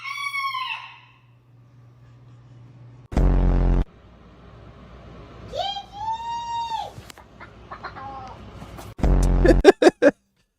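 A chicken gives several loud, shrill calls and squawks with rising and falling pitch, separated by short pauses and broken by two harsh noisy bursts.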